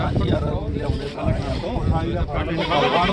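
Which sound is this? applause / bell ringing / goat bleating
goat bleating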